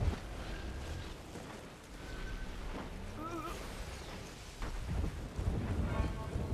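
Thunder and storm ambience in the video game Evolve, a continuous low rumble with rain-like hiss and a few swelling booms, heard under game sounds.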